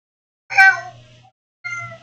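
A cat meows twice up close, a loud drawn-out meow followed after a pause by a shorter one, over a faint low hum.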